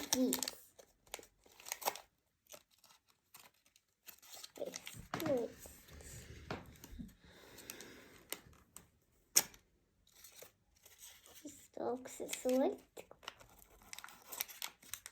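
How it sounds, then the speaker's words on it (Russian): A small plastic toy packet holding a doll is crinkled and torn open in short bursts, with a child and an adult talking over and between the rustling. "Ти розривай вже пакетик швидко."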